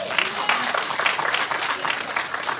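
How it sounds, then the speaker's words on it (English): A church congregation applauds with dense, steady clapping throughout, loud and continuous with no pauses. "Somebody clap for that."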